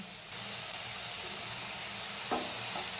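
Ginger, garlic and green chilli sizzle in hot oil with onion in a pan, a steady close frying hiss with a brief stir or clatter near the end.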